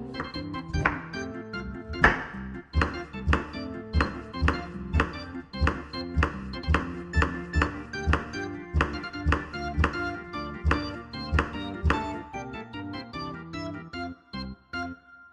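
A knife strikes a cutting board in quick, even chops as mixed vegetables are cut into small dice for jelly popsicles. Soft music plays behind the crisp, close thunks.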